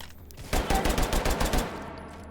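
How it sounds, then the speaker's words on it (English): Rapid pistol gunfire in a video game, a tight string of about a dozen close, loud shots lasting roughly a second, with quiet before and after. "I'll try and use my pistol wherever necessary to finish them off"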